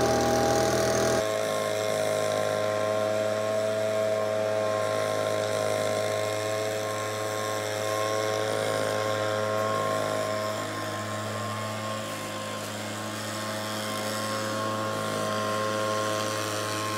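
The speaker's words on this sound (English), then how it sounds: "He's got the leaf blower out." A steady engine drone with a high whine runs continuously outdoors, loud and unbroken, consistent with a leaf blower running nearby.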